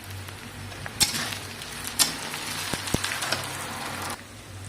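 Whole cardamom, cloves, bay leaf, cinnamon and green chillies hit hot oil in a pan and sizzle with a steady close hiss. A few sharp clinks and scrapes sound from the pan before the sizzle drops away near the end.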